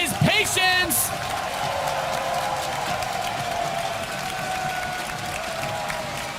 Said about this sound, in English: And this crowd is really behind the underdog Protoss player here, Apollo.